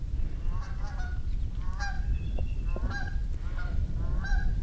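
Canada geese honk repeatedly in loud overlapping calls, a flock flying overhead and calling steadily over a low rushing background.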